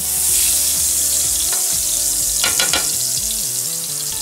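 Bacon grease sizzles steadily in a pan, with a crackling hiss throughout and a few sharper pops near the middle.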